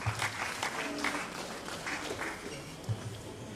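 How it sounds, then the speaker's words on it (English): Moderately quiet applause at a professional managers' summit honours the National President, a steady crowd clatter with scattered louder claps throughout. "Shall we applaud the National President?"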